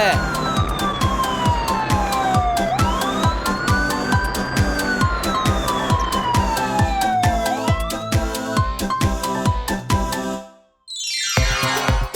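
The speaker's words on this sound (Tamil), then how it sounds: "ஆம்புலன்ஸ் எப்பவுமே பேஷண்ட்ஸ இந்த மாதிரி ஆம்புலன்ஸ்ல ஹாஸ்பிடலுக்கு கொண்டு போக பயன்படுத்துவாங்க." Ambulance siren wailing steadily, a loud rising and falling electronic tone over a rapid repetitive pulsing beat, continuing for several cycles before cutting out briefly and returning with a fresh sweep.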